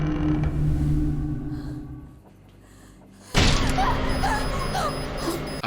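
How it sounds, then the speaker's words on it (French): A heavy cellar door swings open in a suspense scene, producing a loud, sudden grinding creak that cuts in after a quieter lull and then continues as a dense, rough sustain. "La porte de la cave s'ouvre."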